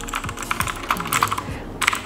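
Fast typing on a standard wireless computer keyboard, a close, uneven patter of clacky keystrokes with a few heavier presses.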